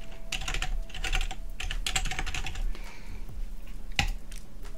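Close typing on a computer keyboard, a quick irregular patter of crisp key clicks with brief gaps and one sharper final tap over a faint steady hum.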